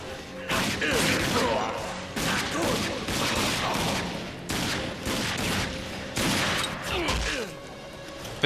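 Pistol gunfire in the shooter game Rage: repeated loud sharp shots in quick bursts over a constant game soundscape, with a voice speaking now and then.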